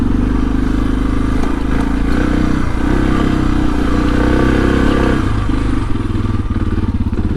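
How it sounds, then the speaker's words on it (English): A Suzuki DR650 dual-sport motorcycle climbs a dirt hill, its engine loud and close with a continuous low thumping drone, rough clatter and slight revving changes as it powers up the slope. "the Suzuki goes right on up that like it's butter"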